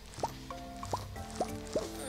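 Crops being watered in the video game Stardew Valley make four evenly spaced, bright water plops with rising drip tones, each followed by a short tonal chime, moderately loud over quiet background music.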